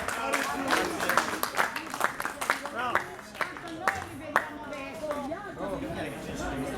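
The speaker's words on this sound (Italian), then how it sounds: "un applauso non può mancare per Alessandro che ci ha accompagnato beniss" An audience at an outdoor Sardinian festival claps in scattered, uneven bursts, fairly faint and mixed with crowd chatter and voices talking nearby.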